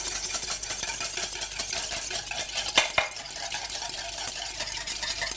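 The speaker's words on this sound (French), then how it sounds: "on va bien mélanger" A spoon stirs balsamic vinegar being mixed into a vinaigrette in a bowl, a close, continuous scraping swirl with one or two sharp clinks against the side, and no talking.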